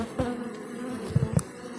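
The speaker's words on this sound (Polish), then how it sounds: "Pszczoły latające w teren i przylatujące." Honey bees fly in and out of a hive, a continuous buzzing drone close by, with a few brief louder passes and soft thuds over the steady hum; no one speaks.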